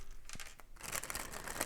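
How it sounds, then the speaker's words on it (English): Quick papery riffling and soft slaps of tarot cards being shuffled close by, in two brief bursts and then a longer flurry. "Let me shuffle real quick."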